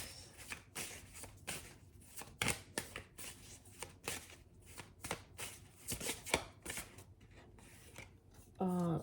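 Repeated crisp riffling and slapping of tarot cards being shuffled, in quick bursts with brief gaps, close by, and faint voices in the background.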